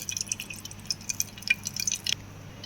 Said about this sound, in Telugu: ఇప్పుడు ఇందులో మనం ఆయిల్ వేసుకుంటున్నామండి